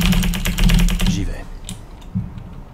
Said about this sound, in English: mashing is probably the best part of this game, TBH, especially when your keyboard is as loud as mine